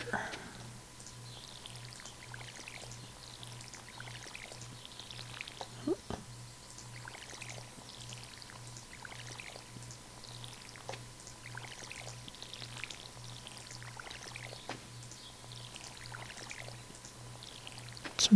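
A watering can pours water in the Stardew Valley video game, a soft repeated splashing effect that recurs in regular bursts about every two seconds, quiet, over a faint steady hum with a few brief clicks.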